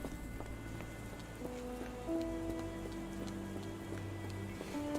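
Steady rain patters in a video game scene, a soft even hiss with faint scattered drops beneath sustained musical tones.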